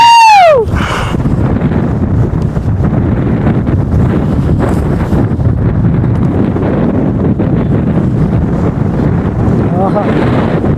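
Strong wind buffets the microphone throughout, a loud continuous low rumble during a motorcycle day trip from Coimbatore to Attappadi.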